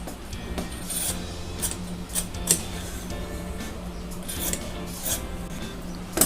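Scissors cut through cloth being trimmed for kurti stitching, making repeated short, crisp snipping and rasping strokes at an uneven pace, close and moderately loud, with no talking.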